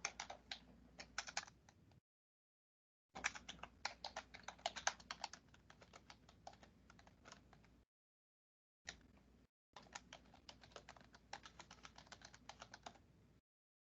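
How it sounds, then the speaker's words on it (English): Bursts of rapid key clicks from typing on a computer keyboard, close and clear, in several runs separated by short pauses, with no one talking. "at this point, we want to type the title of the paper."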